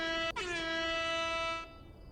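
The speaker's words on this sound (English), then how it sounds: "You need to install a fucking air horn in the soundboards." A loud, blaring air horn sound effect from a stream soundboard sounds once, a brief break near the start and then a steady tone that cuts off abruptly after about a second and a half.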